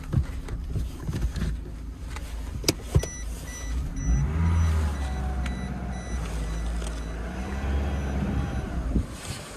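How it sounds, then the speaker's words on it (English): A Vauxhall Astra engine idles steadily and close by, a smooth low hum running throughout with a few sharp clicks and knocks over it, no speech. "The engine sounds really sweet,"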